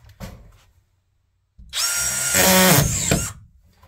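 A power drill drives a screw into drywall: a short burst, a pause, then a loud, close, sustained whine as the screw sinks in, ending abruptly.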